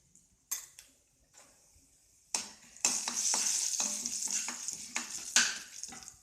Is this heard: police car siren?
no